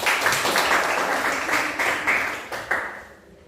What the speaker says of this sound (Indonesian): Tepuk tangan dulu untuk kita hari ini.